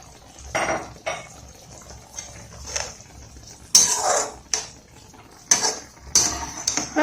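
Bread halwa being stirred in a pan, with a utensil scraping and clinking against the metal in several sharp, close bursts separated by quiet gaps.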